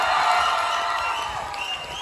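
Applause, cheering and whoops from an audience at a live band show, a dense, steady roar of crowd noise that holds at a loud level throughout.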